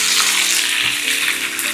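A sizzling ghee tempering with sesame seeds and hot chillies for suran dal being stirred in a pan: a dense, steady frying hiss, close and loud, with faint spoon movement underneath.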